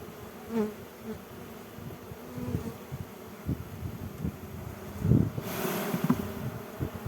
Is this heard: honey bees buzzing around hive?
yes